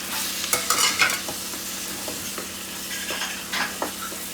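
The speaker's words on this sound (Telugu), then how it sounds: "తర్వాత టమాటాలు కూడా వేసేసుకుందాం." Tomatoes frying in a pan for a greens-and-tomato curry, a continuous loud sizzle broken by repeated scraping and clattering stirs throughout.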